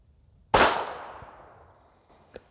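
A single sharp report from a ported pistol firing a 148 grain hollow base wadcutter, a loud crack that rings out and decays over about a second and a half, followed by a faint click.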